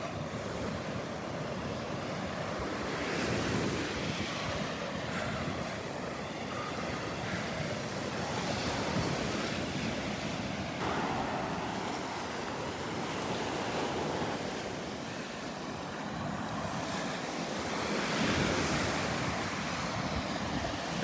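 Ocean surf rolls in continuously on a beach at Delnor-Wiggins, broad and roaring, with swells rising and falling and wind buffeting the microphone; no voices.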